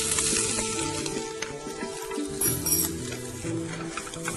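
Chopped garlic and green chilies are sautéed in a pan, giving a continuous close sizzle along with stirring scrapes and an occasional light clink of utensil on metal, with no voices.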